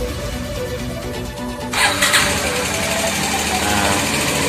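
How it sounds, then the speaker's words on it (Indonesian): A motorcycle fitted with a wifi remote alarm rumbles at idle, then its engine note rises sharply as it starts, settling into a steady running hum close by. "Posisi ini hidup, motor hidup"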